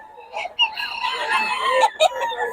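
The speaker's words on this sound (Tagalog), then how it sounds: "O kaya mga manok ni Boss June, ano" Several roosters crow in overlapping calls, loud and close, with a few clucks mixed in and no talking.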